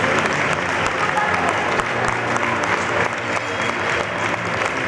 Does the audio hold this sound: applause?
yes